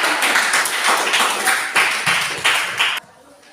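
A crowd of children clapping together in a steady burst of applause, loud and close, stopping abruptly near the end.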